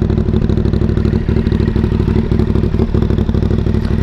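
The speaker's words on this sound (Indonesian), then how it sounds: "suara knalpot dari mesin V-twin serak-serak gimana gitu" A Yamaha Byson motorcycle with a V-twin engine and a modified setup idles loud and close, its exhaust giving a raspy, steady, rapid-pulsing throb with a rough clattering edge and no voices.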